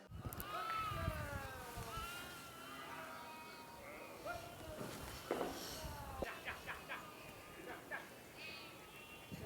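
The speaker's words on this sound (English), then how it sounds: "rounding up all the sheep, and they're so loud" Several sheep bleat repeatedly and overlapping while being rounded up on a farm, some near and some farther off, with rustling movement and occasional voices in the background.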